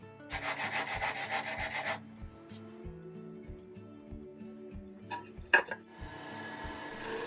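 Wood of an old broken rocking chair is sanded smooth during restoration, producing rhythmic back-and-forth rubbing strokes up close, with quieter scraping and a few light knocks between passes.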